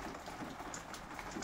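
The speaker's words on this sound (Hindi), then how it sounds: "काफ़ी बारिश हो गई है बाहर" Heavy rain pours steadily outside as a dense, even hiss with no break, moderately distant and alone, with no voices.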